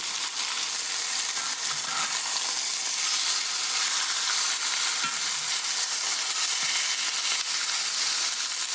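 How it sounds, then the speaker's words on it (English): Pork shoulder browns in a hot pan with a steady, dense sizzle and hiss that stays at an even loudness throughout, with no talking. "when you're browning meat like this is not picking it up too soon"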